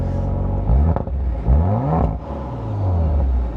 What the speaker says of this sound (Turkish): Tatlı bir egzoz sesi var bu arada